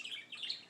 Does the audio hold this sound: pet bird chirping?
yes